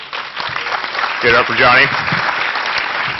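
Audience applause and cheering at a hacker conference panel, a burst of clapping that swells in the middle while someone speaks over it into a microphone.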